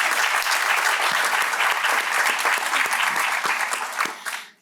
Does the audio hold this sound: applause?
yes